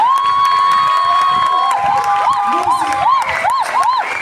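Festival audience clapping and cheering, with children shouting and whooping over a dense wash of applause, loud and continuous, with a steady high whistle-like tone partway through.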